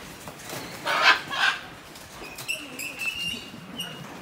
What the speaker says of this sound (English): With all these birds, they're everywhere.